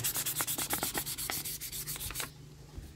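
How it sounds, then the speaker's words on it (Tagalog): Brake part being hand-sanded with 1000-grit sandpaper, rapid rhythmic rubbing strokes close up that fade to quieter scraping near the end. "Lihahin lang natin pagkatapos natin i-brush ito."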